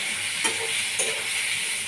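Onions frying in a pan: a close, continuous hissing sizzle with a couple of soft stirring scrapes, steady in loudness and free of speech.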